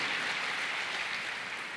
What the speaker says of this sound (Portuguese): Se você puder, aplauda Ele